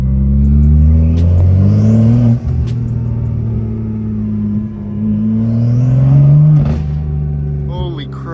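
A crashed BMW M2 in Sport Plus mode revs hard while driving, its engine note rising and falling in strong, close surges over several seconds, with a loud burst near the end. People talk over it.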